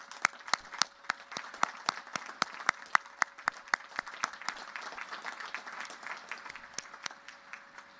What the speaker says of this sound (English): let's have a big round of applause for Colonel Ripley, please